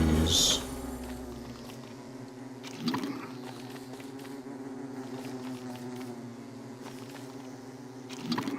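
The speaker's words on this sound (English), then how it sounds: "Some more bees." Bees in the survival video game Don't Starve Together give a steady, droning insect buzz that holds throughout, with a few brief louder clicks and game effects over it.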